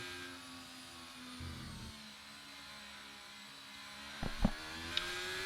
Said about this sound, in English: I find that the cars are a little bit too loud on the stream